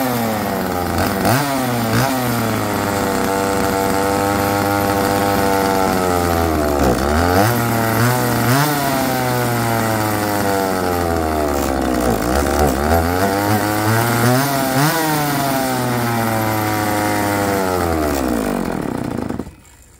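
A Poulan 335 chainsaw with a Walbro carburetor runs after carburetor adjustment, loud and close for about twenty seconds, revving up and dropping back repeatedly in rough surges before cutting off abruptly at the end; no talking.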